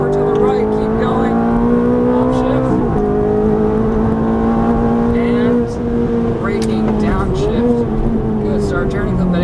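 Ferrari F430 F1 engine revving and accelerating on the Exotics Racing Los Angeles track, a loud steady rising engine tone with brief dips at gear changes, with an instructor talking over it throughout.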